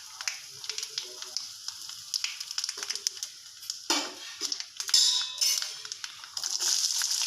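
Mustard seeds crackle and pop in hot oil in a pan while a vegetable side dish is being cooked, giving a dense, irregular sizzle of sharp crackles that swells into louder bursts near the end.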